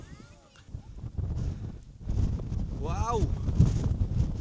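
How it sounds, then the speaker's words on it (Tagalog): Gusty wind buffets the microphone in uneven rumbling bursts on a mountain loop in Mabini, Batangas, while a person exclaims and talks excitedly over it. "Medyo lang guys, medyo mahangin lang."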